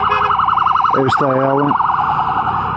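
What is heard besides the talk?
ambulance siren passing a motorcycle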